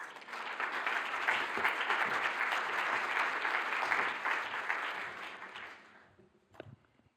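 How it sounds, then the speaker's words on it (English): Audience at a symposium closing plenary gives sustained, even applause for about six seconds before it fades out, followed by a couple of faint stray sounds. "And you can give him an applause, please."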